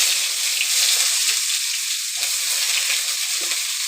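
Mustard seeds, urad dal and cumin frying in hot oil give off a steady, fairly loud sizzle with faint crackles and pops spread across the whole stretch, and no voices are heard.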